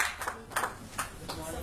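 Audience applause at a Maithili poetry reading held before a large Nepali crowd in Malaysia, heard as a short, fairly quiet burst of scattered clapping with a few louder hand claps standing out.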